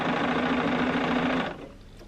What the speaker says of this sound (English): So you just sew a little bit and then you line up the fabrics, and then you sew a little bit more.